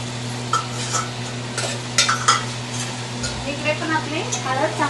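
A spoon stirs fresh turmeric sabji in a pan, scraping and clinking against the metal over a steady sizzle, with a constant low hum in the background and a voice speaking briefly.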